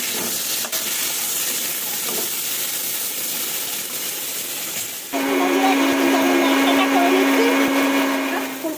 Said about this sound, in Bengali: দিয়ে কিন্তু আলু ফুলকপি সুন্দরভাবে ভেজে নেব।